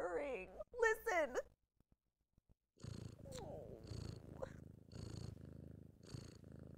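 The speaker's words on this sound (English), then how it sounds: "she's purring" A pet cat purrs softly and close by in a steady rumbling flutter, coming after a short stretch of talk and a pause.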